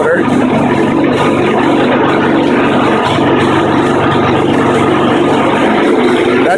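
A small 3.5 horsepower lawn mower engine driving a generator runs at full revs, a loud, steady buzzing drone with a constant rough mechanical hum and no pauses.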